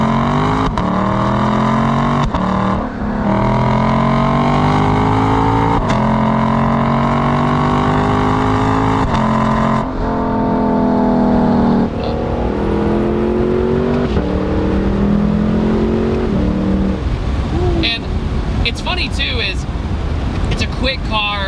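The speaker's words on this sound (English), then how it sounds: "when you do like a 3/4 throttle, it gets, for some reason it has this snarl to it" A Lexus LC500 engine snarls at three-quarter throttle, a loud, steady rising drone with harmonics that climb and hold through several pulls before easing off, while a person talks over it.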